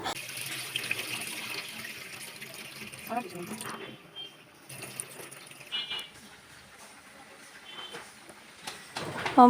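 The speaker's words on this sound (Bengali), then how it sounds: "দেওয়ার পরে এখানে চাউলটা একটু ধুয়ে নিচ্ছে।" Polao rice being rinsed with water in a rice cooker pot, a faint running, swishing wash with light clinks, partly under low talk in a home kitchen.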